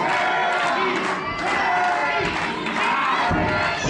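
A wrestling crowd at a PPW PowerSlam show roars and cheers steadily, loud and dense throughout, with scattered shouts rising above the din.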